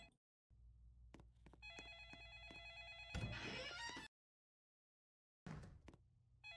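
A telephone rings in the Roblox horror game It Lurks, with a repeated electronic bell tone sounding in bursts over a low background drone, then cutting to silence before the drone returns.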